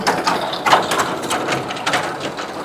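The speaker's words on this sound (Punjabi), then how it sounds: "ਪਹਿਲਾਂ ਪਟਾਈ ਚੱਲਦੀ ਆ ਤੇ ਇਹ ਮਸ਼ੀਨ ਦਿਖਾਉਂਦੇ ਆ" A farm machine towed behind a Massey tractor runs in a field, giving a rough, continuous mechanical clatter with irregular rattling bursts, fairly close.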